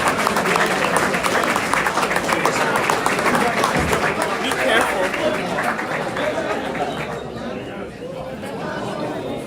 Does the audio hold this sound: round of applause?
yes